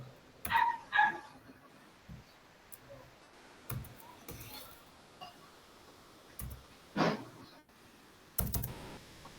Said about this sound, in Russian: Тут и собаки лают, и люди кричат.